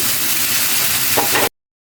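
Cut fish pieces dropped into hot spice paste with green chili slices, frying with a dense, close, steady sizzle for about a second and a half before cutting off abruptly.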